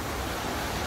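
Abundant water rushing over and under stream rocks, a steady broadband wash that holds at the same level for the whole moment, close and fairly loud with no voices.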